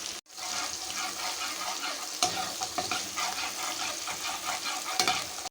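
Garlic, onion and green chili frying in a pan for beef rice, a loud continuous sizzle with intermittent scraping clinks of a stirring spoon, close up and without speech.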